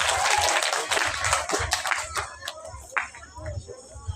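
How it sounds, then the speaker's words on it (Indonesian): Clapping from a religious gathering for Isra' Mi'raj at an Islamic boarding school greets a young woman called forward, starting as a burst of hand claps that fades into scattered claps while people talk. "Tepuk tangan untuk mbaknya"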